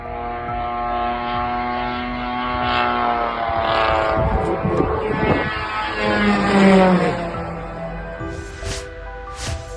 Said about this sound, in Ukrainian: Проліт шахеда прямо над будинком у Сумах.